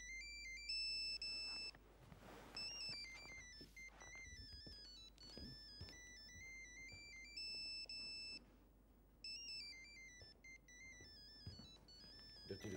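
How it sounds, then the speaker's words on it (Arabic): Mobile phone ringtone ringing in an Egyptian TV drama scene, a bright repeating electronic melody in phrases with short gaps, moderately loud over faint room noise and scattered knocks, no speech. "قوم رد على التليفون"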